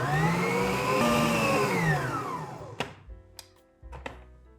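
An electric stand mixer with a balloon whisk beats banana cake batter, a loud steady motor whir with shifting pitch for over two seconds, then stopping, followed by a few sharp clinks and knocks near the bowl.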